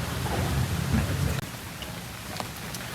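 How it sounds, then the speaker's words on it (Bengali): Heavy rain pours steadily, a dense, loud hiss; a deep rumble fills the first half before it drops away, leaving only the rain. "দেখতে পাচ্ছেন আজকে অনেক বৃষ্টি হচ্ছে"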